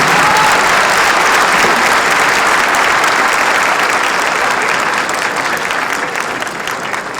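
A forum audience applauds the speakers after a panel on the Lava Jato case, loud, dense, sustained clapping filling the room and slowly tapering toward the end.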